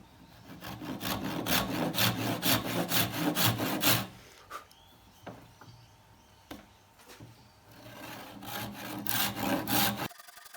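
A router cuts an angled slot into a wooden handle, giving a rapid, rhythmic rasping chatter for about four seconds. A few scattered scrapes and clicks follow, and then the cutting starts again near the end.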